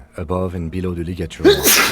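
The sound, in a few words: sneeze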